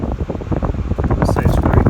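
A HOMCOM air cooler fan runs with its swing shutters moving, producing a steady close-up whoosh of blown air that is partly masked by a person talking over it.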